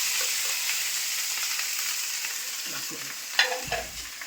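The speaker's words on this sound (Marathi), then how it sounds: "हे बघा आपली मच्छी मस्त तळून झालेली आहे एकदम." Fish frying in very hot oil gives a steady broadband sizzle throughout, with a few louder crackles and utensil knocks near the end.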